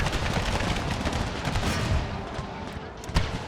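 Musket volleys in Empire: Total War, Brothers vs. Brothers mod battle: dense, continuous crackling gunfire across the whole stretch, with sharp reports around the end and a voice talking over it.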